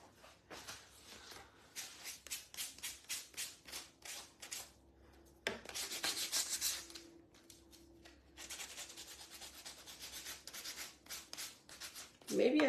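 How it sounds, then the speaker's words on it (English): Small sanding block rubbed back and forth across inked canvas in quick rasping strokes, close and quiet, with bursts of steady scrubbing separated by brief pauses. "let me get my little sanding block"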